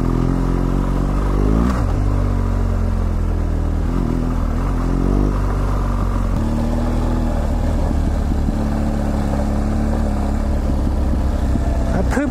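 A BMW GSA adventure motorcycle on red rock off-road trails revs loudly and close, the engine note climbing and falling in several bursts as the rear tire breaks loose, with rattling clatter over steady engine drone.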